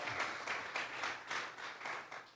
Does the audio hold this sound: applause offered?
yes